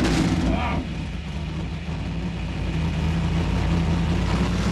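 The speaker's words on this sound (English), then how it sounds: "Do you think I could hear the engine without my helmet on, just to hear what it sounds like?" A V8 car engine starts and rumbles steadily at idle, loud and close, with a brief higher rev near the start.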